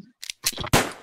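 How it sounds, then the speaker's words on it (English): Gunshots in Minecraft, a quick run of sharp cracks and bursts in close succession, loud and close. "More shooting."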